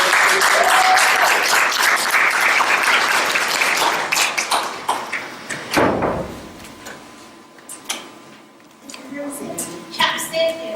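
An audience applauds loudly to welcome the panelists onto the stage at a hip hop humanism panel, steady clapping that thins after several seconds into scattered claps, with faint voices.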